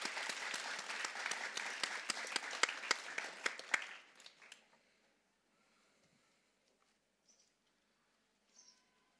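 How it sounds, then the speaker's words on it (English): Students and staff at a Grade 4 celebratory school assembly give a round of applause. The clapping is brisk and crowded for about four seconds, then fades to near silence with only faint stray sounds afterward. "Let's give them a round of applause."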